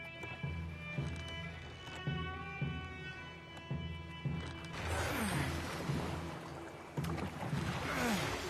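Oars rowing a wooden boat at sea, with rhythmic creaks and knocks of the strokes over lapping water, followed by louder rushing splashes and surf.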